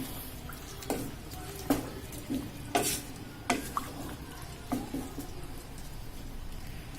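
Soaked rice being stirred in a pot for veg biryani, a series of soft scraping and clinking spoon strokes against the metal at irregular intervals over a quiet low sizzle, close and fairly faint with no talk.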